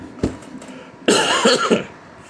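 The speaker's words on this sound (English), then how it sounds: "If you hear me coughing" One short cough, followed by a rougher burst of several harsh coughs with throat clearing, close and fairly loud.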